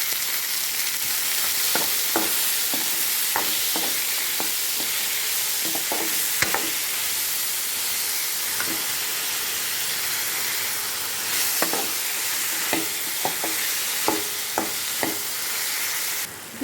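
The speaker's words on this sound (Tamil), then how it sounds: "தேவையான அளவு உப்பு ஆட் பண்ணி நல்லா வதக்கி எடுத்துக்கலாம்" Chopped tomatoes with salt sauté in hot oil in a pan for chutney, a steady broad sizzle throughout, punctuated by irregular clinks and scrapes of a spoon stirring, close and loud, with no voices.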